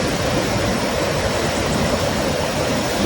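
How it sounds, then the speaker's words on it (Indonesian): A swift river rushes past close by in Lampung, Indonesia, a loud, steady, unbroken roar of fast-flowing water with no voices. "airnya deras sekali nih men"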